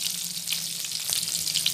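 Pork ribs seasoned with salt and bouillon fry in a skillet, giving a steady, close sizzling hiss with faint crackles throughout and no voices.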